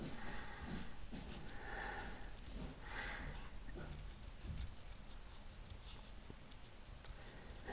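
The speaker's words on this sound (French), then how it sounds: "on va bien découper" Scissors snip through paper while cutting out small camera-shaped scrapbook embellishments, a few soft close cuts and rustles over quiet room noise.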